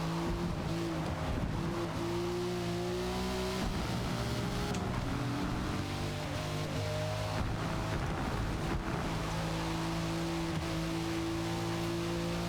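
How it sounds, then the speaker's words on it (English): A racing video game car engine drones and sputters in sustained tonal bursts, loud and continuous, its pitch stepping up and down through gear changes with brief drops in the steady roar. "God, you can hear the engine sputter."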